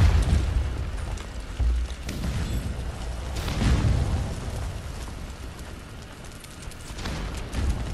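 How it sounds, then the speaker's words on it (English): Bomb explosions in the video game Conan Exiles during a base raid on PS4, several deep booming blasts and rumbling bursts at loud, uneven intervals, one after another, with a continuous heavy low-end roar between them. "he just dropped the bomb"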